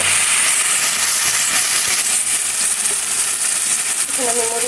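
Green tomatoes and peas tipped into a hot pan with browned onions for a Bengali fish curry, giving a loud, continuous sizzling hiss throughout.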